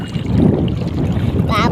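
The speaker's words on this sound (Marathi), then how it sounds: "भयानक वारा" Strong wind sweeping across a fishing boat out catching large carp with nets: loud, gusty rumbling buffets the microphone, and a brief voice cuts in near the end.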